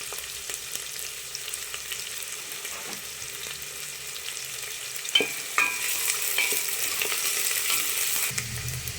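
Sliced onions and a bay leaf fry in oil in a pan for Mandya-style kichdi, with a soft steady sizzle, occasional sharp clacks of a stirring spoon against the pan, and a louder scraping stir near the end.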